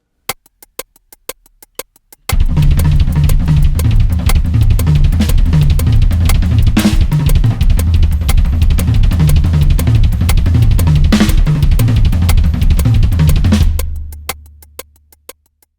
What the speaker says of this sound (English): two kicks, right, left, around the kit in 16th note triplets